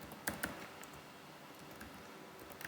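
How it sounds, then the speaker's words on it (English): Quiet, rapid typing on a computer keyboard while entering a database query, with irregular soft key clicks and a few sharper taps over a faint background hiss. "Now I'm typing the query"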